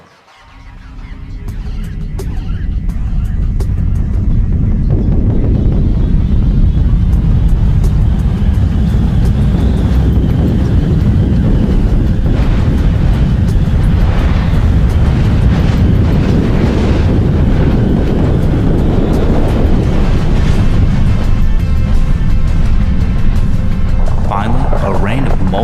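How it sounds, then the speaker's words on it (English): The shockwave and blast front of an asteroid impact on the early Earth build into a deep, loud, continuous rumble that swells and roars for many seconds, with narration running over it. "The shockwave arrives. Next comes the blast front."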